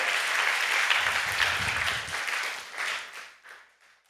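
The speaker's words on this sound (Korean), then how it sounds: "말씀에 은혜 주신 하나님께 영광의 박수, 영광의 박수" Church congregation applause at a Friday prayer service, a dense steady roar of many hands close by that tapers off and thins out toward the end.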